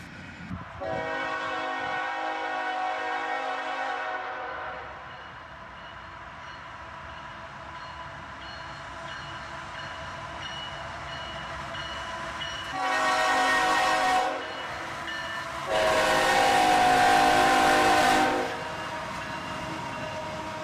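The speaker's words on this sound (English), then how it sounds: "the tail end of the train passes us by" A freight train hauled by EMD locomotives rumbles past steadily, its horn blaring in several long blasts, first near the start and twice more toward the end.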